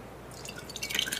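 Lumpy, curdled kefir poured into a jar, giving a short run of wet drips and glugs that grow louder toward the end, close and alone.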